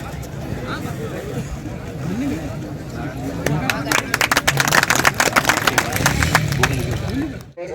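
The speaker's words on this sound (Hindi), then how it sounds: "आप सभी उन्हें का तालियों से स्वागत करें" A crowd at a farm gathering claps to welcome a farmer. The scattered, uneven hand claps build into a fuller burst midway, over a background of murmuring voices and talk.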